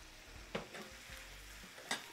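Butter and olive oil sizzle gently in a pan with shrimp scampi, a soft steady frying hiss broken by two brief louder clatters of stirring, close and quiet with no talking.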